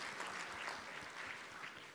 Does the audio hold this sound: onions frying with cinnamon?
no